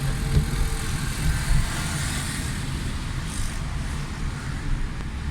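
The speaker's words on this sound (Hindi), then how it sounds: "गाड़ी का साउंड कैसा हो गया?" A Suzuki Cultus EFI car engine, just fixed for a sound and fuel problem, runs with a steady low rumble and hum, close and even, with no speech.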